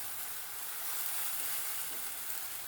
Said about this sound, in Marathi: आता 2 ते 3 मिनिटं तेल सुटेपर्यंत आपल्याला मसाला भाजून घ्यायचा आहे